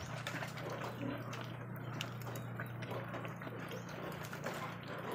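Water is poured and mixed into grower and starter pig feed in a container: a continuous wet sloshing and trickling with a low steady hum underneath, moderately close and unbroken by talk.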